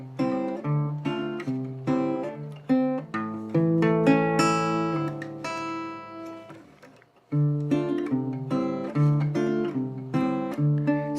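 Fingerpicked instrumental for an original song, steady plucked notes forming a gentle melody over low bass notes, with a brief pause before the picking resumes at the same moderate pace.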